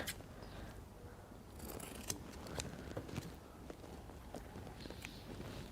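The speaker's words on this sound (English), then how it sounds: "I can turn this other side and cut out the excess fabric." Scissors snip through leftover fabric from an old bed sheet or pillowcase, making a run of soft, close crunching cuts at a steady pace with no voices.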